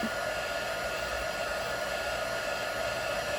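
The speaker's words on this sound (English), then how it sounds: "So I'm just going to hit it with my heat tool again to melt it." A heat tool melts embossing powder on a handmade card, giving a steady, close-up blowing whoosh like a hair dryer that holds even and unbroken throughout.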